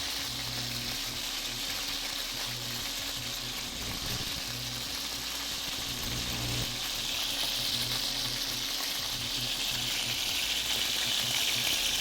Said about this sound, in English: I'm literally yelling over the sizzle sounds right now